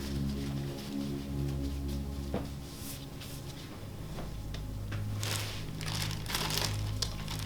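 Plastic bag handled and crinkled during a bag search, a steady run of crumpling rustles with brief sharper crackles throughout, close and fairly loud, with no talking.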